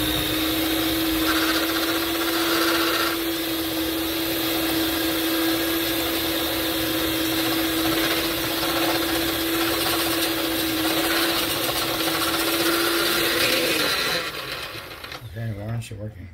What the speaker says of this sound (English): So I put the four sweet potatoes inside of our blender. So our mixer, I mean.